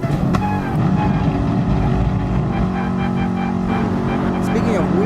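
Race car engines roar steadily in GT Sport at Interlagos, a loud continuous droning whine with shifting pitch, with a voice talking over it.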